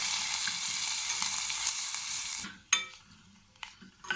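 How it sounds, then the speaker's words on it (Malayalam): Onion and curry leaves frying in a pan for restaurant-style fish curry, a steady loud sizzle for about two and a half seconds that abruptly drops away, followed by a few scattered stirring clinks and scrapes against the pan. "കറിവേപ്പില എല്ലാം ഇട്ടതിന് ശേഷം ഒന്ന് ഇളക്കിയെടുക്കുക."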